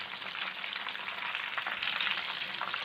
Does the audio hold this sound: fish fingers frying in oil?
yes